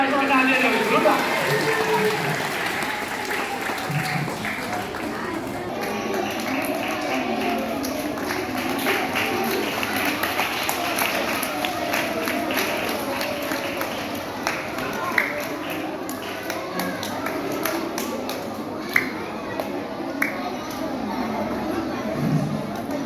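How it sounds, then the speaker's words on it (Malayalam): Schoolchildren clapping at a school social service scheme inauguration, patchy bursts of applause mixed with children's chatter and an adult voice talking throughout, moderately loud and roomy. "സൂപ്പറായിട്ട് എല്ലാം കൈയടിക്കണം"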